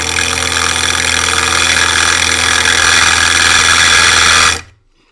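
A power drill whines at a constant high pitch, loud and close, drilling a small hole into the center of a stripped screw head, running steadily for several seconds before cutting off abruptly.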